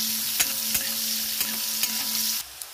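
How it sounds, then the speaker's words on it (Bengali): Chopped onions frying in hot oil in a kadai for chicken kadai, a steady close sizzle broken by several sharp scrapes of a spoon stirring, then a brief quieter pause. "ওই তেলের উপর কুচানো পেঁয়াজটা দিয়ে দেবো"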